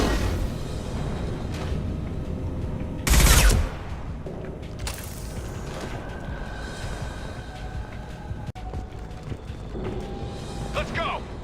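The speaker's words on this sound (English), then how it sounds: "Firing a high-impact shot!" A high-impact shot fires in a video game as one loud, sharp blast early on. It rises over steady game ambience and mechanical noise, with voices talking in the background.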